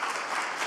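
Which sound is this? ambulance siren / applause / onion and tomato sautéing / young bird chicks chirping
applause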